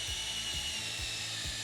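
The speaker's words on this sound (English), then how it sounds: "We're going to choose a spot right here and drill a hole right there." A drill boring a hole into a maple tree at an upward angle to tap sap, a steady close whirring grind with a few rhythmic low pulses and no talking.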